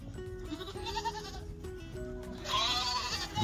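Goats at a Christmas tree farm bleat in a series of wavering, nasal calls, with a louder, higher bleat near the end over a steady low background hum.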